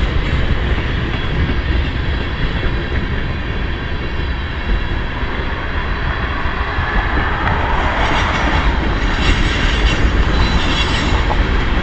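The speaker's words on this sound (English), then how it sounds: "Long train." A long train passes very close, loud and unbroken, with a dense steady roar of rolling wheels and faint clacking over the whole stretch and no talk over it.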